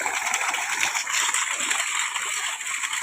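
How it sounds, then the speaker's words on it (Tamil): Water from a solar-powered motor pump gushes steadily into a field irrigation channel on a farm, a continuous loud splashing rush with no pauses. "சோலார் மோட்ரு தண்ணி பாருங்கள் எப்படி அடிக்கணும்"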